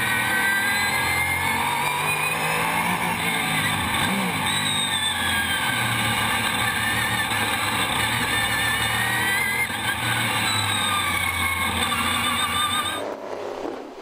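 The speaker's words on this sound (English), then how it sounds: "Great sounding car, great sounding car." Onboard a sports sedan racing at Sandown circuit, the engine roars loud and close without a break, its revs climbing and falling through gear changes before cutting off abruptly near the end.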